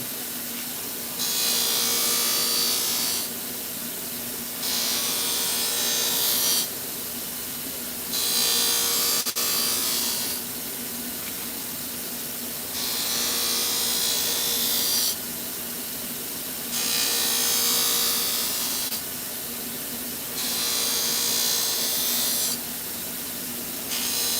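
A knife blade sharpened on a powered sharpening machine: a steady, loud abrasive hiss and drone, broken into regular passes of a few seconds each with short lulls between them, continuing without talk.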